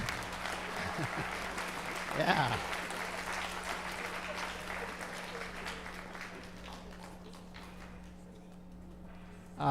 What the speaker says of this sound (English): How about a special round of applause for our beekeeper, Broden Lavery?